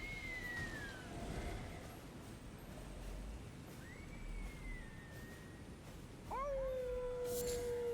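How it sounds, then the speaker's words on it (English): A distant howl from the Elden Ring game world, a couple of rising and falling wails drifting over a steady ambient wash, with a louder sustained cry near the end. "So you can hear that howling maybe"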